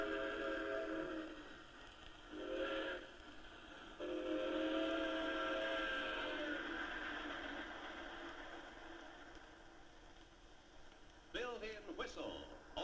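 A Lionel toy train's built-in whistle sounds in several steady tones of different lengths, with a quieter stretch afterwards and a few sharp clicks and knocks near the end.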